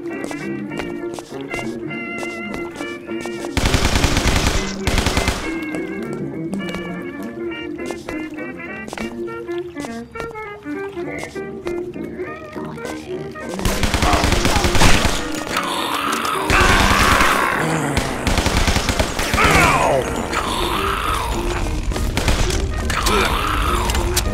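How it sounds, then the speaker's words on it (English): Tommy gun fire in the Mafia video game, long rattling automatic bursts mixed with game music and effects, loud and repeated over most of the stretch. "Nothing beats the good old Tommy gun."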